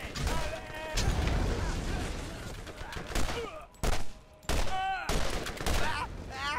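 Gunfire with projectile bullets in the video game Borderlands: dense, loud volleys of shots with short gaps, interrupted by sharp impacts and ricochet-like whines, while a voice talks over parts of it.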